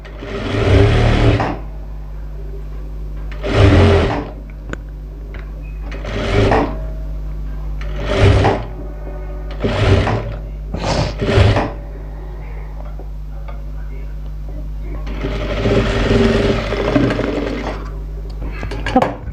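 Sewing machine stitching along the edge of a blouse in a tailoring lesson, running in about eight short bursts with pauses between, then a longer run near the end, close and fairly loud with no talk.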